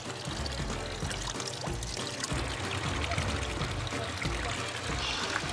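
A steady, close gush of Gragnano water, a light low-calcium spring water from the Italian pasta town, pouring and splashing continuously from start to finish.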